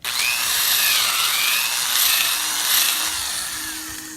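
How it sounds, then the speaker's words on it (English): A loud, continuous grinding whine of a power drill, harsh and steady, with no voices. "pretend I'm drilling for oil."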